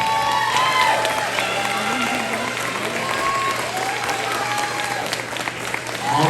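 An audience at an elementary school 5th grade awards ceremony claps steadily throughout, a dense sustained round of applause with some scattered cheering and voices mixed in.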